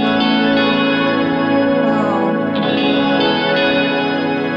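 Sustained MIDI guitar chords wash through a lush, lingering Vintage Verb reverb, notes blurring into a shimmering, spacious tail without any talking.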